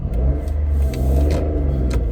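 A passing car engine hums and rises, close and fairly loud, holding a steady rumble across the couple of seconds with slight revving swells.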